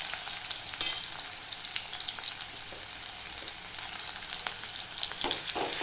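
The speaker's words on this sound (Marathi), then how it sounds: "आता टाकते कांदा. कांदा पण लालसर येऊपर्यंत परतून घ्यायचा." Chopped onion frying in a pan with crackled mustard seeds for a sprouted moth bean curry, a steady hissing sizzle with occasional stirring scrapes, close and continuous, no voices.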